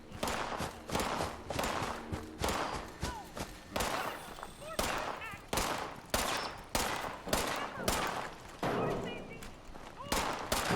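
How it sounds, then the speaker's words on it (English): Rapid bursts of gunfire in Fallout 76 hit around a player's base, loud repeated volleys in a steady pulsing rhythm across the whole stretch, with a voice talking underneath. "Something is around there shooting my damn base."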